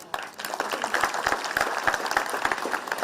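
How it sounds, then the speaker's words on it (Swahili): Steady applause from a crowd at a Machakos county youth service pass-out ceremony, a dense patter of clapping that carries on evenly throughout, fairly close. "Makofi mazuri jameni."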